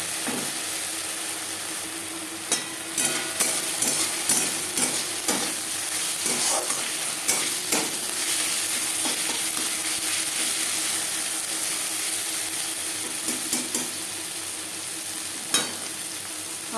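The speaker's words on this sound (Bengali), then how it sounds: "আদা লঙ্কার কাঁচা গন্ধ যাওয়া পর্যন্ত নাড়াচাড়া করে নেব" Ginger and green chilli fry in a pan with a continuous hissing sizzle, while a utensil scrapes and taps the pan in irregular bursts; nobody speaks.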